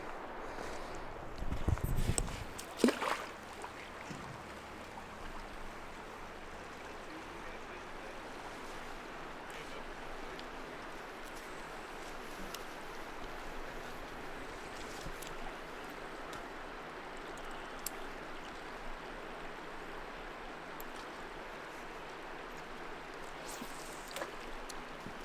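Steady broadband rush of river water flowing through shallow rapids, continuous and moderately loud throughout, with a short splash and clatter near the start.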